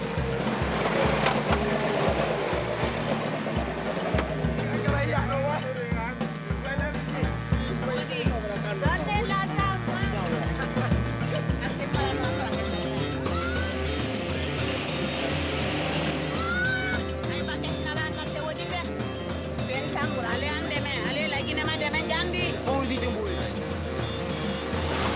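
A vehicle engine short of power, with a split drive belt, drones and labours under frequent talk on a difficult road in Guinea. The rumble holds steady, then the tone changes partway through.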